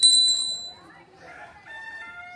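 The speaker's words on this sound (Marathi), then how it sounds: "कोंबडा कसा आरवतोय बघा" Rooster crowing near a tiled-roof village cattle shed: a single drawn-out, tonal crow with shifting pitch, fairly close and clear, after a brief ringing high note at the start.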